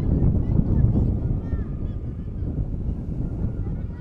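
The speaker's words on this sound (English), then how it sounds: "this wind is starting to gust more" Wind gusts at an outdoor women's junior ultimate frisbee match between Mexico and China, producing a heavy low buffeting roar on the microphone that swells and eases, with faint voices and crowd sounds mixed in.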